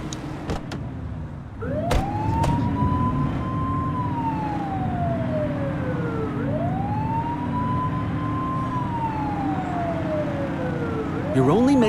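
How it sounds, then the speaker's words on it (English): A police car siren in the game The Precinct wails in long rising and falling sweeps over a steady engine drone, loud and close, with a brief yelp burst near the end and faint voices early on. "You're only meant to use the siren in emergencies."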